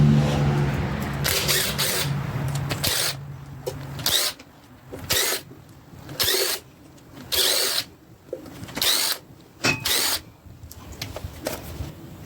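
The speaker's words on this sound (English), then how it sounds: "We're going to take the timing chain cover off here." A power tool or impact wrench removes timing chain cover bolts on a small block Chevy 350 engine, sounding in repeated loud bursts of about a second each with short pauses between them, close up.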